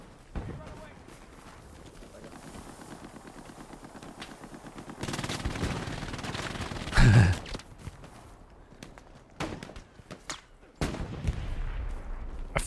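Gunfire and artillery in the World War II shooter Hell Let Loose, with sharp close shots and bursts of rapid fire, louder blasts around the middle, and footsteps and a player's breathing between them.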